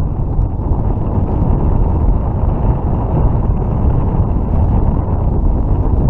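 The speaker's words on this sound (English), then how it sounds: "This wind, this chop." Strong wind blows over a choppy lake at a dock in Marion, Kansas, as a steady, loud, broadband rush that buffets the microphone, with no talk.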